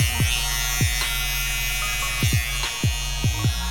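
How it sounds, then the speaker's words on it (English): Barber FX hair trimmer buzzing close up during a fade haircut, a steady electric hum broken by repeated short strokes as the blade passes through hair. "I'm just broadening out with my Barber FX trimmer"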